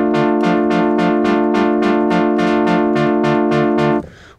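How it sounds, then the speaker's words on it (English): Moog Apollo synthesizer holding a sustained chord while a filter envelope retriggers on each of about twelve evenly spaced notes, giving a steady rhythmic pulsing brightness, loud and close, then cutting off abruptly near the end. "what you're hearing is the envelope going to the filter being re-triggered"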